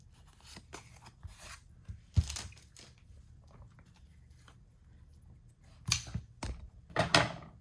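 Scissors snip open a Pokémon Go trading card pack on a tabletop: a few crisp, close cuts and crinkles in scattered bursts, with quieter handling noise between them.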